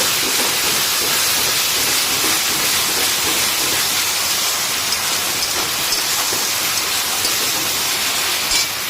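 Ginger, garlic and chilli paste frying in oil on a high flame for chicken curry, a loud continuous hissing sizzle close up, dense and rain-like, with faint clicks near the end.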